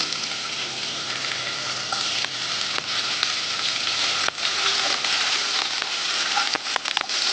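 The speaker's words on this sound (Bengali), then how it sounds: "এর মধ্যে ওই তেলের মধ্যেই আমি পেঁয়াজগুলো দিয়ে দিলাম" Onions fry in hot oil as filling for stuffed pointed gourd with prawns, giving a steady close sizzle with scattered crackles and a few sharp clicks of stirring.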